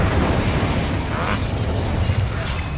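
Spell blasts from Confringo and Incendio in Hogwarts Legacy, a steady roar of fiery bursts and crackling pops that fills the clip, with no pause between the impacts.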